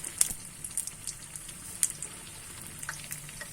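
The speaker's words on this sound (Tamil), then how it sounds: "மீடியம் ஃப்ளேமில் வச்சு ஃப்ரை பண்ணுங்கள்." Plantain fritters made with idli batter frying in oil over a medium flame, a faint steady sizzle broken by scattered crisp pops and crackles, close and quiet.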